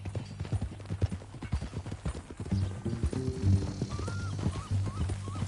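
Horse hooves clip-clop on the ground in Red Dead Redemption 2, a steady walking rhythm close by, with a few tonal game sounds and faint murmurs behind.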